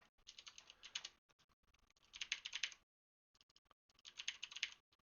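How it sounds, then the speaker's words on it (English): Rapid clicking keystrokes on a computer keyboard come in bursts separated by short pauses, close and fairly crisp, with no voices. "I hope my keyboard isn't destroying anyone's ears"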